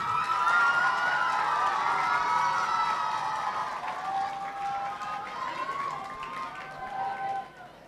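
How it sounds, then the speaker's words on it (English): A crowd at a school event cheers and shouts for Jacqueline Fernandez, loud excited voices and whoops with some clapping beneath, fading slightly toward the end. "let's have a roaring applause and a greeting before I welcome all the dignitaries"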